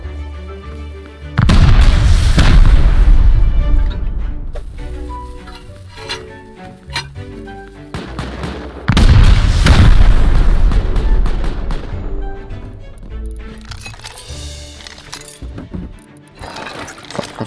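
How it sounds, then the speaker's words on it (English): Large satchel charge explosions in the video game Rust during a base raid: two loud booming blasts, each a broad burst with crackling debris that fades over a few seconds, with smaller clinks and impacts between. "You throw the satchel first. I'll blow when it blows."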